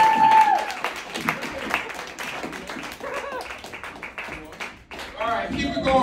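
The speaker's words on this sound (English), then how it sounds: "Clap for Juan." An audience at the Broadway Comedy Club in New York City applauds in a burst of clapping that rises, dips and swells again, mixed with a comedian talking and crowd voices.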